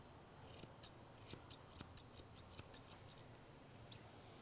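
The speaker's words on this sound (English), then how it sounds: "take the scissors to the side of the nose, move it slightly across" Grooming scissors snip a dog's beard beside the nose, a quick close run of about fifteen crisp metallic cuts in an irregular rhythm, heard alone with no talking.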